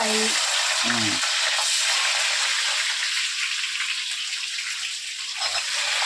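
Onions fry for chicken biryani in a pan, giving a steady loud sizzling hiss throughout, with brief speech at the start and a short sound near the end.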